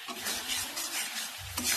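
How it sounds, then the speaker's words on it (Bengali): Soya chilli seasoned with Maggi masala is stirred in a pan, a brief run of scraping and swishing over a soft sizzle. "এটা একটু ম্যাগি মশলা দিলাম, দিয়ে এটাকে নেড়ে নেবো।"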